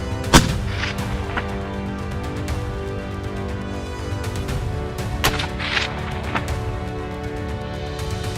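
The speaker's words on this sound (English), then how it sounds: "the loud report of a rifle can scatter the entire troop instantly" A single sharp rifle report cracks out near the start during a hippo hunt in East Africa, followed by ringing echoes and a few fainter thuds over steady background noise.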